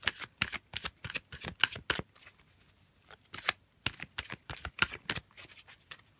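Oracle cards being shuffled by hand in rapid, riffling bursts, close and crisp, with a brief pause midway before the shuffling resumes, and no talking.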